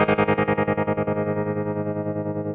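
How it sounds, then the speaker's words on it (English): Electric guitar through a Yamaha THR amp with a tremolo effect: a sustained, slightly distorted chord pulses rapidly in volume, the throbbing gradually easing as the note decays. "one of the sounds that I really liked off this was the tremolo sound."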